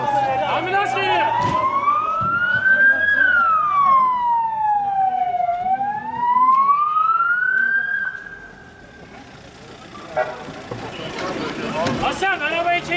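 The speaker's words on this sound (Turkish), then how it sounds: "Ambulans geliyor, yola geliyor." An ambulance siren wails loudly in rising and falling sweeps as it approaches on a road, with excited voices shouting nearby over the siren.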